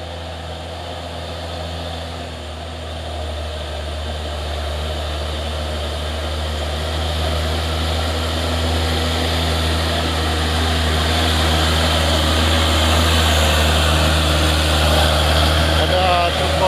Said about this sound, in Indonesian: Dan ini ada satu unit truk box Hino.